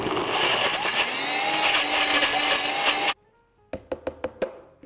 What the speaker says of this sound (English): we're just going to get this into our NutriBullet here and blend it until it is super,